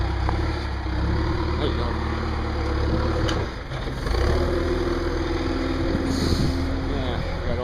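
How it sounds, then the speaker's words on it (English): Road paving machinery runs nearby with a steady, loud engine drone and idling rumble that fills the scene, while a person speaks briefly over the noise. "I guess they're doing some paving."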